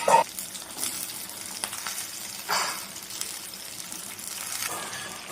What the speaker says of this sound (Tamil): இப்போ எண்ணெய் நல்லா ஹீட் ஆகிட்டு அதில் கோவக்காவை சேர்த்துக்கலாம்